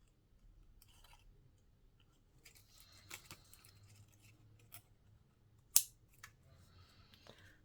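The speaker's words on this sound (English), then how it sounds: "So I think I'll do it this way so I can cut around these." Scissors snip through paper cards for junk-journal ephemera, a few quiet close crisp cuts spread out over the stretch, one sharper snap standing out near the end, in an otherwise hushed room.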